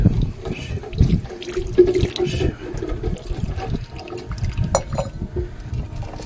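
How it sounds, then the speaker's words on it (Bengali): Water is poured over a Shiva idol to bathe it on a rooftop, making a loud, splashing, continuous flow with gurgling bursts, close by. "এখন আমি ভোলে বাবাকে স্নান করাবো"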